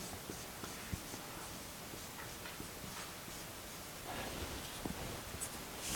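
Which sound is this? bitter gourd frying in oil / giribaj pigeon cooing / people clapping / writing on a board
writing on a board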